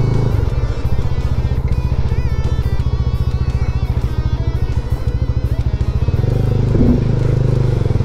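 A motorcycle rides along a road between Bandarban and Alikadam. The engine gives a loud, close, steady throbbing drone with some rattling clatter, holding an even pace throughout.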